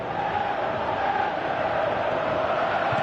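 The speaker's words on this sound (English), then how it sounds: "you can feel and hear how the crowd are reacting to all of this" A stadium crowd in the football game PES 2018 keeps up a loud, sustained roar and chant, a dense wash of many voices that holds steady without sharp peaks.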